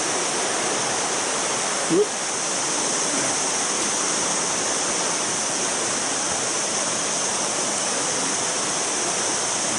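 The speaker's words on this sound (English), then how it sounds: "you can wade through the river, but it looks a bit too deep and fast flowing to do that today" The fast-flowing Monachil river at Los Cahorros, a dense, constant close rush of water running steadily throughout with one brief thump near the start.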